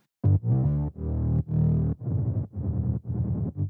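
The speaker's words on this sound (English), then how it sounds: "I automated the pitch bends for all bass sounds to create this pitch down effect" Pitched-down bass stabs from a Martin Garrix and Tove Lo style electronic drop, each note sliding downward through automated pitch bends, in a rhythmic run of about seven loud, distorted hits with brief gaps between them.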